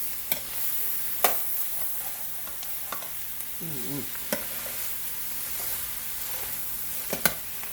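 Food frying and browning in sesame oil in a pan, a soft continuous sizzle close by, broken by light clicks and taps of a utensil stirring, with no talk.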